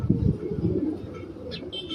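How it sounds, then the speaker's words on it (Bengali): A Malay pigeon coos in soft, low, rolling throbs close by, followed by a brief faint higher chirp near the end, with no talk over it. "এই যে দেখো মালয় পায়রা"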